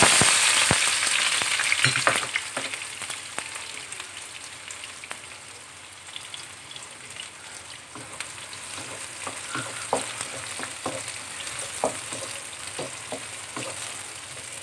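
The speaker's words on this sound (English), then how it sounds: "the oil has heated up already. So right now I'm adding in, as you can see, this is 2 small onions and a little bit of spring onions." Small onions and spring onions fry in hot oil, a close, steady sizzle that starts loud as they hit the pan, then settles into a crackling hiss with scattered pops and stirring clicks.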